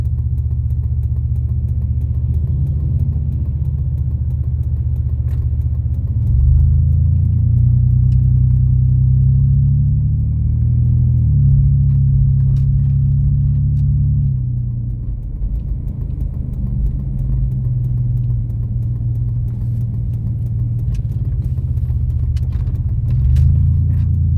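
An old car cruising at steady speed on cruise control gives a low, even engine rumble and road drone from inside the cabin, with slight shifts in pitch and no talking.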